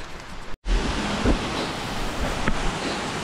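A waterfall on a forest trail in Monteverde, Costa Rica, gives a steady, dense rush of falling water that fills the scene at close range, broken by one brief dropout near the start.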